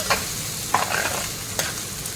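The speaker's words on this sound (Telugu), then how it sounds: "ఇటు సైడ్ చూడండి కాకరకాయ ఫ్రై అవుతుంది" Bitter gourd frying in oil in a pan, a constant close sizzle broken by a few sharp spatula scrapes and clicks as the pieces are turned, with no one speaking.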